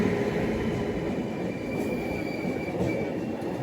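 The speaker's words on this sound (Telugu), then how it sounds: "Gujarat super fast express Mumbai central నుంచి అహ్మదాబాద్ జంక్షన్ అయితే వెళ్తుంది బండి" Gujarat Superfast Express train running past near Surat station, its steady loud rumble of wheels on rails continuing throughout with faint squealing overtones and no talk.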